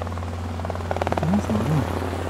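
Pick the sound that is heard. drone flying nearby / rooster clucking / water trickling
drone flying nearby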